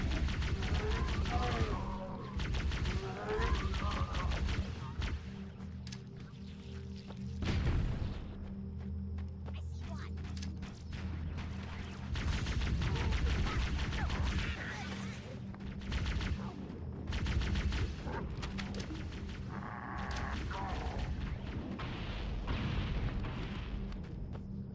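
Shotgun blasts in the Halo 1 game on Legendary, firing in repeated bursts amid dense booming combat noise and explosions, with a voice talking over part of it.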